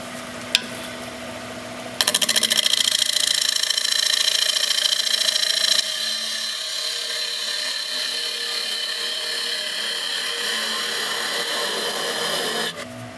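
A wood lathe spins a piece for turning, giving a steady, loud mechanical whir and hum that steps up in pitch as the speed rises, then holds evenly for several seconds with no talk.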